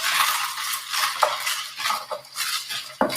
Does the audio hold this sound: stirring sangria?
yes